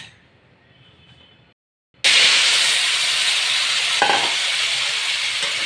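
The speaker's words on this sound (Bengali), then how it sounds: "এখন আমি আলু পেঁপেটাকে ভেজে নেব।" Potato and papaya hit hot oil in a wok with a sudden loud sizzle after a brief quiet moment, then fry in a steady close hiss to the end.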